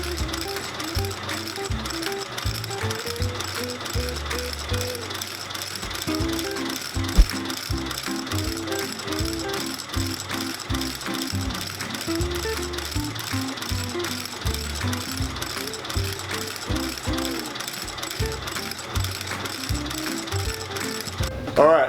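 A stitching machine sewing soles onto Wolverine 1000 Mile boots during a resole, a loud, fast mechanical clatter with a steady pulsing rhythm that runs throughout, close by and with no voices.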